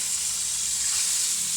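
Water poured into a frying pan after fried tilapia while cooking escabeche, giving a loud, steady, close sizzle that holds evenly throughout without voices.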